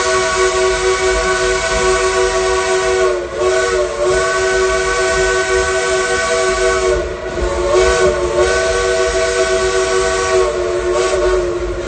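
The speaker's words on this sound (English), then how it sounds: "The engineer play a tune on that bottle locomotive whistle" The Dollywood Express steam locomotive whistle blows loud and steady, its layered tones holding for several seconds with slight pitch bends, like a tune being played.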